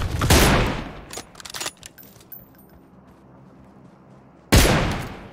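Battle royale gunfire, with a loud sharp burst of shots at the start, scattered quieter cracks after it, then a near silent pause before another loud close shot near the end.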